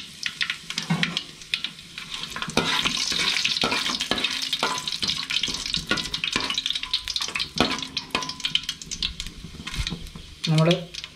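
Dried red chilies fry in hot oil while being stirred, a crackling sizzle broken by repeated scrapes and clinks of a spoon against the pan, with occasional speech nearby.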